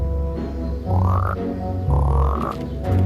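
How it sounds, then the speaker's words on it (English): Cartoon frog croaking in an animated adventure show, three loud, close croaks with rising, stretched tones repeating at a steady pace, no talking over them. "They turned Taylor into a frog"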